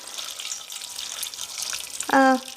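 Hot water mixed with chicken bouillon powder is poured over canned potatoes, giving a steady close watery rush that swells into a brief louder gush near the end, with no speech.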